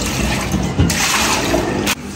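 Water pours into a pot for making Maggi noodles, a loud continuous splashing rush up close with a brief change near the end.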